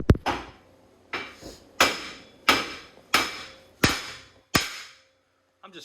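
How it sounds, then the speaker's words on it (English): A hammer strikes Mustang S550 suspension parts during an angle kit and coilover install, seven loud ringing metallic blows at roughly even intervals, each one decaying quickly, with a brief rattle at the end. "I need a bigger hammer"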